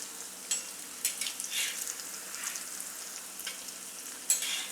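Onion greens vadi shallow-frying in a pan, a quiet steady hiss of oil with soft crackles and occasional light spatula taps, close but faint.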